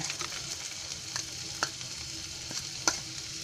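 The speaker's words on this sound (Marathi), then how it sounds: "हे अद्रक लसूण टाकले. या कांदा टाकते." Onion hits hot oil with ginger and garlic, a bright continuous sizzle broken by a few sharp spatula taps against the pan, close and steady with no talking.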